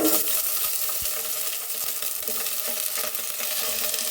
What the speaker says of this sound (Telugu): నల్లేరిని ఆయిల్లో బాగా ఫ్రై చేసుకోవాలి